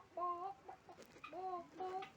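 A chicken in a zoo enclosure gives a run of close, loud, nasal clucks and short squawking calls, several in quick succession with brief gaps between them.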